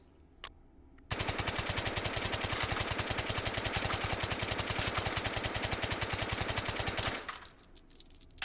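A suppressed PP-19 Bizon submachine gun fires in the VR shooting game H3VR: one long, rapid, evenly paced string of muffled shots lasting about six seconds, with quiet before and after.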